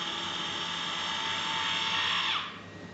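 An electric torque wrench with electronic precision control runs during a torque test, giving a loud, steady motorized whine that holds for over two seconds, then drops abruptly in pitch and level as it stops near the end.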